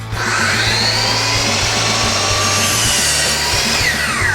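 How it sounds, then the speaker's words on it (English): A miter saw whines loudly and continuously as it cuts a clamped wooden board, the motor's high steady tone holding for several seconds close by, with no talking. "And that's how you use a miter saw."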